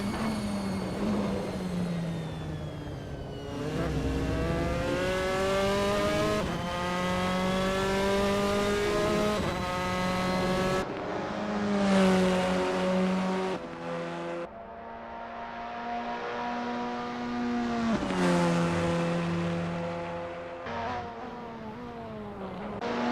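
Formula 4 race cars on a practice out lap at Misano in Assetto Corsa, the engine whining up through the revs, dropping sharply at each gear change, then climbing again over and over.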